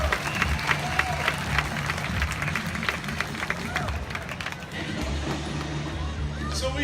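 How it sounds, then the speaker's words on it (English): Theme park audience at a tiger show applauding as the tiger finishes her swim, a steady wash of crowd clapping over a low rumbling background of water and machinery, with some voices mixed in. "How about we give her one more round of applause as she finishes her swim?"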